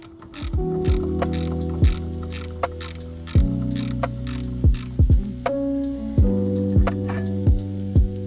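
A ratchet loosens tight caliper bracket bolts on a Tracker UTV front suspension, giving several bursts of rapid, close, sharp clicking separated by short pauses.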